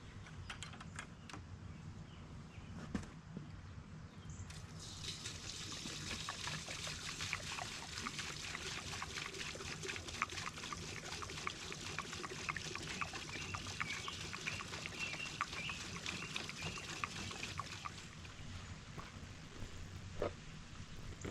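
Liquid sealer pours steadily through a mesh screen into a sprayer while landscaping, a continuous trickling wash that swells after the first few seconds and holds at moderate level.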